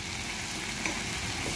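Okra masala sautéing in a pan with Kashmiri chili and coriander powder, giving a steady, close frying sizzle with no talk.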